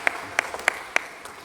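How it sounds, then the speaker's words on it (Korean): A few sharp, evenly spaced claps from a Korean church congregation at a Wednesday worship service, sounding as four or five distinct strikes in a quiet room rather than full applause. "하나님께 영광의 박수를 올려드립니다."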